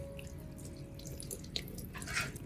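An orchid plant, trimmed of rotted roots, is rinsed under a running tap, giving soft, faint splashing and dripping water close by with scattered small spatters.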